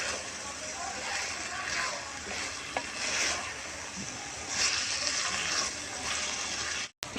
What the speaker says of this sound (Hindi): लोबिया को उस हिसाब से इसको अच्छी तरीके से करेंगे मिक्स और भून लेना है